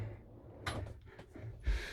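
Door on a Carthago Chic c-line I 4.9 LE motorhome being closed, a quiet sequence of sliding and rattling followed by a soft thud as it shuts, close by.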